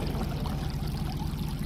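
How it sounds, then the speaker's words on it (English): Continuous water pouring and splashing out of a pop-up drainage emitter at a street curb, fed by a sump pump line, a steady close rushing flow with no talking. "You can see the water pouring over the curb coming out of the pop-up emitter."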